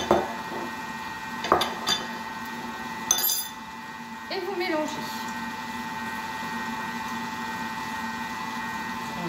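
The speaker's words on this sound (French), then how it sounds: "Et vous mélangez." Batter being mixed with melted butter and eggs in a bowl, heard as a few clinks and scrapes of a utensil against the bowl over a steady mixer-like hum in the background, with some speech nearby.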